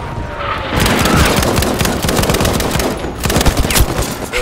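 Bolt-action rifle gunfire in the video game Battlefield 5, Breakthrough multiplayer mode: loud, dense cracks and booms crowd together over four seconds of steady battle noise, with no talking.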